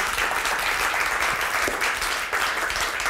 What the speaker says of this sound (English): Big round of applause for my foodies here.